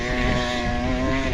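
Dirt bike engine revving hard on loose volcanic sand at Bali's volcano, a steady, loud buzzing drone with a rising pitch, close and continuous throughout with no talk.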